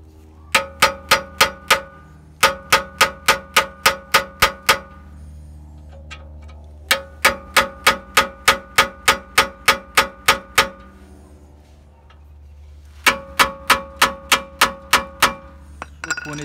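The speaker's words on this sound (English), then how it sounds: "I put a vice grip here and try to hit it with a hammer" Hammer blows ring out against a seized, ungreased brake pin held with a vice grip, coming in three quick bursts of sharp metallic clangs with short pauses between, loud and close.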